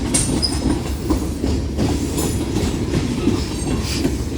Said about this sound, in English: There goes the end of train number 1 of today in Metairie, with a little horn show